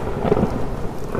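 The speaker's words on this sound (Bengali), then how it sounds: "বাইরে তখন মুষলধারে বৃষ্টি হচ্ছে।" Heavy rain with rolling thunder as a cartoon horror-story sound effect, a steady wash of downpour with low rumbling underneath, continuous and fairly loud, no voices.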